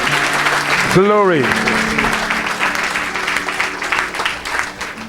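Audience applause fills a church worship gathering, a steady broadband clatter of many hands held under a loud shouted voice and a swooping tone, continuing evenly through to the end.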